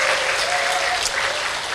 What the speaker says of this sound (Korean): 박수 칠 일이 아니에요